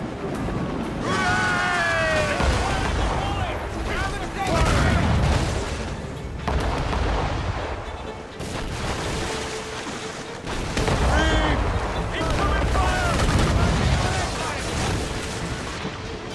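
Naval cannons firing from a sailing ship in Assassin's Creed Rogue, heavy booms repeating through the battle beneath frequent shouted voices and a steady wash of sea and wind.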